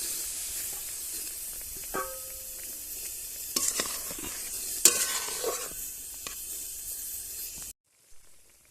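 Eggplant curry with fried eggplant, water and salt simmering in a pan, a soft continuous sizzle and bubbling with a few utensil clinks and stirring scrapes, ending abruptly.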